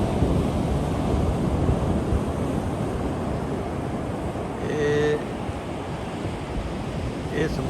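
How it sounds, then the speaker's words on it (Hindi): Sea surf pounds the Portuguese coast in a steady, loud wash of roaring waves with wind buffeting the microphone, and a brief faint voice cuts in near the end. "समुंदर बढ़िया छल्ला मार रहा।"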